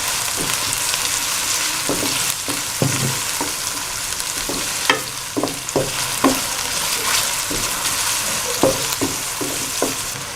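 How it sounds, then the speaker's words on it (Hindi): Steady sizzling of onions frying in hot oil, with occasional clinks and scrapes of stirring in a pan, no talking. "प्याज़ों को फ्राई करते हैं थोड़ी देर।"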